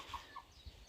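A chicken on a poultry farm gives a few faint, distant clucks, short bursts set low against steady background noise.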